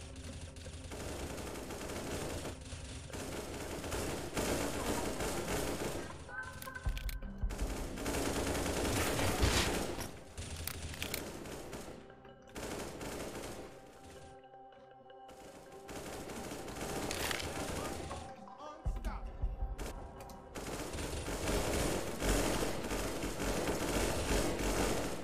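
Sustained gunfire fills a team deathmatch round in Unturned, with dense overlapping volleys and bursts from several weapons, short lulls between them, and the shooting staying loud and busy throughout.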